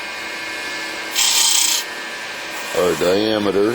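A skew chisel cuts into a walnut blank spinning on a wood lathe, giving a brief loud rasping scrape over the steady whir of the machine, followed by someone speaking.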